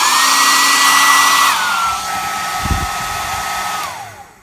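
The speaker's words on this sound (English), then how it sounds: "we will be taking our hairdryer and heating them up." A hair dryer blows hot air over crayon shavings on a canvas for a Christmas craft. Its loud, steady whir drops to a lower speed partway through, runs on evenly, then winds down and stops near the end.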